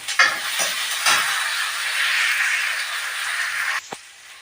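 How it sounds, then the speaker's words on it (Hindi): Onions sizzle steadily in a hot pan, a bright crackling hiss with a few stirring scrapes and a sharp clink near the end. "अब मैं डालूंगी इसमें प्याज, और प्याज को कर लूँगी अच्छी तरह से फ्राई।"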